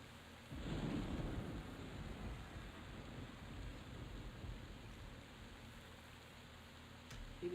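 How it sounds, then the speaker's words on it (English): Steady rain pours with a deep rumble of thunder early on in a foggy EverQuest game world, a faint, continuous wash of downpour with low rolling booms, no talking. "It is so hard to see because it's raining and it's even more foggy out"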